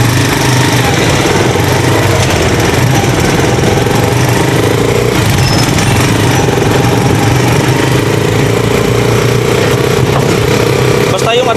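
A Rusi Chariot 175 trike's engine runs steadily and loudly up close, giving a continuous rough, rattling drone with no pauses for the whole stretch.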